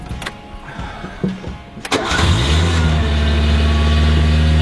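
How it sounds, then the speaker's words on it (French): A cold Renault 4L cranks briefly and catches, then settles into a loud, steady, raised idle with the choke pulled, the engine humming close and continuous. "la voiture elle tourne à un régime plus haut que d'habitude vu qu'il y a le starter"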